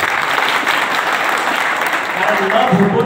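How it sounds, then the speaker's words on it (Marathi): An audience at a village political gathering claps for a legislator, producing a dense, sustained burst of applause that fills the whole stretch, with crowd noise mixed in. "म्हणून मी आमदार साहेबांसाठी आपण सर्वजण त्या टाळ्या वाजवसाल"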